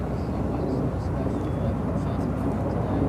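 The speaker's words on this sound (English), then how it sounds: "Flight 11 heading to Tokyo Narita in this 777-300ER, now rolling down to a right." A Boeing 777-300ER operating Flight 11 to Tokyo Narita rolls along the ground at Chicago O'Hare airport, with a continuous, heavy low-pitched engine rumble that stays fairly even throughout.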